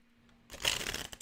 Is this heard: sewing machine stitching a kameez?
no